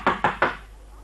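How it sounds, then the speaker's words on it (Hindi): Three quick knocks on a wooden door in a radio play, close and sharp with short decays, evenly spaced and alone without talk. "लो बस अब रात भर खटखटाए जाओ"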